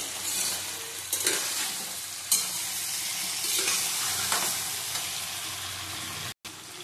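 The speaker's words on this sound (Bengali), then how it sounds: "আঁচ বাড়িয়ে নাড়িয়ে দিতে হবে।" Tangy-sweet-spicy mango pickle stirred in a pan over high heat: a loud, continuous close sizzle broken by repeated scraping strokes of a spoon against the pan, with a brief cutout near the end and no talk.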